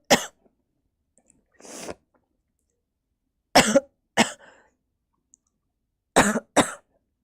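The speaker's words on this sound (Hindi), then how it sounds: "मुझे खांसी भी।" Several sharp coughs in separate bursts, a single one, then a pair and another close pair, with a softer breathy sound between; no talking.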